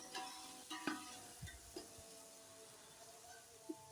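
Potatoes and browned onions fry in a pan with a faint, quiet sizzle, stirred with a few soft scrapes and taps of a spoon, all fairly distant and low in level.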